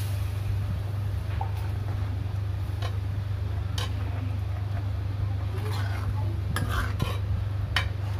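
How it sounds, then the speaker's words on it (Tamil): Tamarind being stirred into garlic curry in a pan, soft scattered scrapes and clicks of a spoon against the pan over a constant low hum, close and fairly quiet. "புளியை ஆட் பண்ணி நல்லா மிக்ஸ் பண்ணி விட்டுக்கலாம்"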